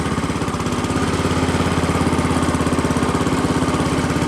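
A Massey Ferguson 10 garden tractor engine runs steadily while driving, a loud, close, rhythmic mid-pitched thrum with a fast regular pulse and no talking.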